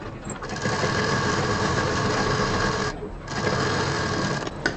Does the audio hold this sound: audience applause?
no